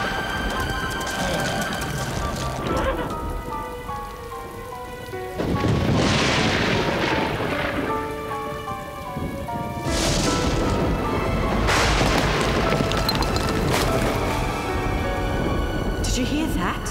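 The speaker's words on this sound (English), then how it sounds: "Just the thunder, I think." A cartoon thunderstorm in a rocky gorge brings several deep, booming thunder rolls over a constant hiss of rain. The claps grow louder and come at uneven intervals.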